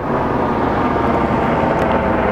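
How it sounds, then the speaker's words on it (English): Helicopter flying over an outdoor machine-gun shooting range in Las Vegas, Nevada, heard as a steady, loud broadband rotor and engine roar that fills the whole stretch without pause. "See, the helicopter proves it."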